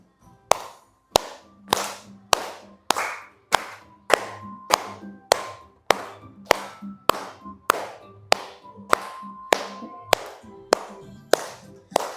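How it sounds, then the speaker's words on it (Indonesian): A classroom of students standing and clapping in unison during an ice-breaking activity: a steady series of about twenty sharp, loud group claps in a regular rhythm, roughly one every half second, with no talking over them. "Boleh berdiri, tepuk tangan dengan semangat."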